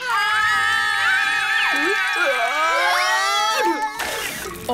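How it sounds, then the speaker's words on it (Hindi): Several high, wavering cartoon screams rise and fall together, loud and close, after a wolf's howl, ending in a burst of noisy clatter. "और उसके बाद जोर से चिल्लाने की आवाज आती है"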